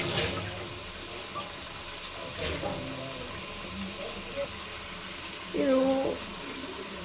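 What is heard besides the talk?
pouring water into pot of sprouted bean curry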